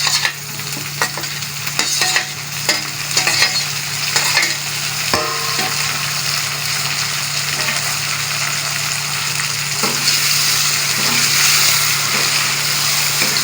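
Gosht frying in a pan as green chillies and tomatoes are stirred in: a steady, close sizzle with scraping stirring strokes throughout and no talking.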